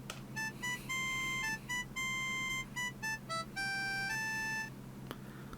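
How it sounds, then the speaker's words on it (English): Bright electronic beeping melody plays a short video game town tune, a series of clipped chime-like notes in a simple rhythm, alone over a faint background hiss. "So our town tune is going to sound like this."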